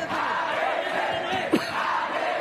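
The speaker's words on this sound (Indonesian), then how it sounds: "penonton juga mulai terdengar ya, Bung" Spectators at an MMA fight event yell and cheer in a steady, loud crowd roar, with one sharper shout rising near the middle.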